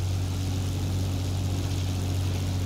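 Propeller engine of an American F3F fighter plane in the World of Warplanes video game, a steady droning hum with a strong low tonal pitch, constant and loud with no speech.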